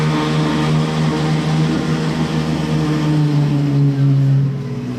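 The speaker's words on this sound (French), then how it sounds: "Le cold start de la 812 GTS, échappement Novitec, calme tout Paris." Ferrari 812 GTS with a Novitec exhaust idling after a cold start in Paris, a loud, steady, close engine drone with a strong low hum and no clear revs.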